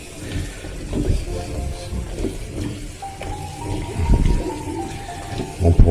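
Running tap water rinses soil-covered vegetables, a close splashing rush with bursts and clatter as they are turned under the stream, with no talk.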